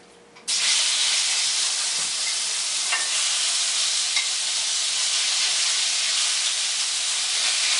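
Grass-fed beef strips hit a hot, smoking iron skillet with olive oil and erupt into a loud, steady sizzle that runs on unbroken, with a few faint clinks from stirring and no talking.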